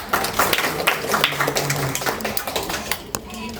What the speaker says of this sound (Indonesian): Tepuk tangan untuk siswa kita.